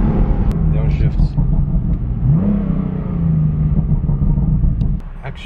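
A BMW M3 downshifting: a close engine rumble with a blip of revs rising and falling midway, steady throughout with a voice heard briefly over it.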